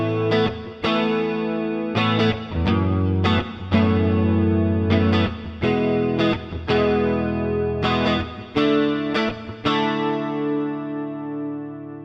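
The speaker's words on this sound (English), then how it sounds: "Now add some reverb." Electric guitar through an Overloud TH-U Slate Edition amp simulator strums a rhythmic pattern of chords with a lush chorus shimmer and reverb tail, the last chord ringing out and fading.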